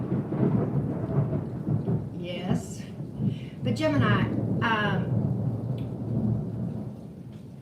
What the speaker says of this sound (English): it is thundering and lightning like crazy